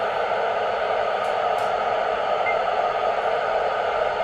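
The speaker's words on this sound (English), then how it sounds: "the squelch has been kept open, that is the hissing noise you are hearing" Steady, even radio receiver hiss with the squelch held open, continuous broadband static with two faint brief ticks, no voices.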